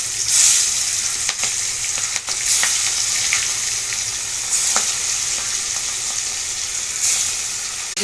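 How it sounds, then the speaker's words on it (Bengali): Fish pieces coated with salt and turmeric frying in a pan, a loud, dense, continuous sizzle with a few sharp pops and crackles. "মাছটা ভেজে নিচ্ছি"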